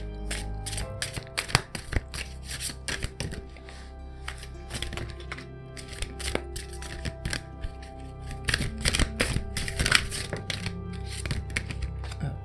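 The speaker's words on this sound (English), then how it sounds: "I'm gonna shuffle my Crow Tarot deck" A Crow Tarot card deck is shuffled by hand, with repeated quick riffling flutters and soft taps close by in an irregular rhythm, no speech.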